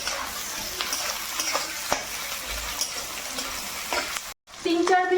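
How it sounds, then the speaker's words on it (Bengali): Whole garlic cloves and peeled ginger fry in hot oil in a pan for a chicken dish, giving a loud, steady sizzle with stirring scrapes throughout, broken by a brief cut near the end before the sizzle resumes. "এর মধ্যে গোটাই দিয়ে দেবো। একটু ভেজে নেব।"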